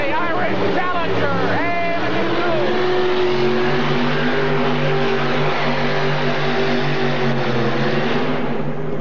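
A modified pulling tractor at a 1986 indoor tractor pull roars loudly and continuously through a full pull, its engine pitch rising early and then holding a dense, sustained drone, with an announcer's voice running over it.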